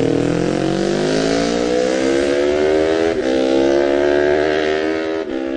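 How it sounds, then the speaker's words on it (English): John McGuinness's superbike at full throttle on the final lap of the Isle of Man Classic TT Senior race at Ramsey Hairpin, a loud, continuous engine howl with steadily rising pitch as it accelerates, one brief dip near the end. "Bike sounding good"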